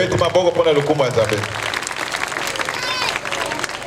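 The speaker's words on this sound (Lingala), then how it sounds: "Veuillez acclamer pour la gloire de Dieu." A church congregation claps and cheers, with a spoken voice at first and then a dense, steady wash of applause and crowd noise.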